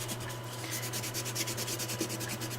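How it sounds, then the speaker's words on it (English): A stick is rubbed firmly back and forth over vinyl laid onto an image, making quick, even, scratchy strokes at a close, fairly quiet level. "rub firmly because you want the vinyl to stick to the image"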